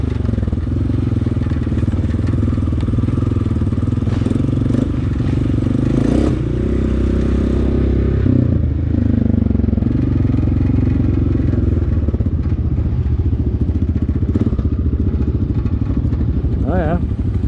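A Honda quad ATV riding a winding trail, its engine droning steadily up close with rattles and scrapes over rough ground, and a voice briefly talking over the motor.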